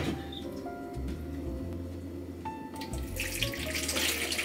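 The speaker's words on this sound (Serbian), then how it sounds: "Sipat ću sad ovu činiju 300 ml vode." About 300 ml of warm water runs into a bowl as dough is being made at home. The stream is steady and trickling, close by, and grows brighter and splashier toward the end, with no talking.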